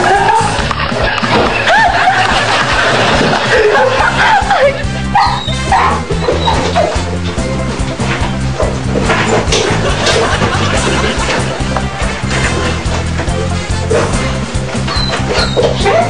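Chihuahua barking loudly in a home, with rapid yips and whimpering yaps repeating close up over a busy, dense background of other noise throughout.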